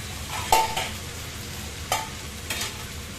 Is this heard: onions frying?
yes